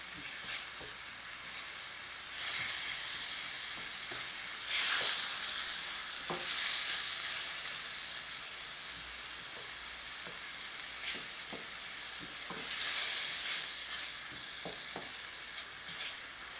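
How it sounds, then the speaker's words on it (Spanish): Onion fries in a pan for beef locro, giving a continuous close sizzle with occasional stirring scrapes and louder bursts of crackle, with no talk. "Vamos a freír hasta que se transparente la cebolla."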